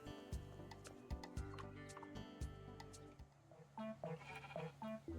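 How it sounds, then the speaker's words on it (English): Sheep bleat in the Discounty video game, several short cries over a busy, clicking game soundtrack with tick-like beats, fairly loud and repeated in quick succession. "Please, Mr. Sheep, I implore you, stop eating my heather plants."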